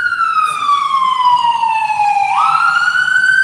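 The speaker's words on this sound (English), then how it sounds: "you got the ambulance sounds. You know that something's going on." An ambulance siren wails close and loud, its tone sliding slowly downward and then jumping back up in a single sweeping cycle.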